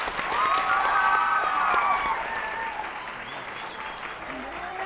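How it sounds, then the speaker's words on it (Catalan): An audience at a televised Catalan quiz show applauds a visiting school group, sustained clapping from a moderately close crowd that swells and then slowly thins over several seconds, with a faint voice beneath it. "un aplaudiment per ells"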